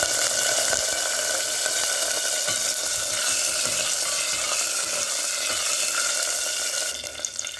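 Cumin and curry leaves sizzle in hot oil for a fish curry, a loud, close, continuous crackling hiss that stays steady for several seconds before easing slightly near the end.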